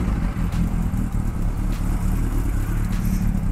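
A 1979 Honda CB750K motorcycle idling and being revved nearby, its engine giving a throaty, pulsing rumble with a few short blips of throttle throughout.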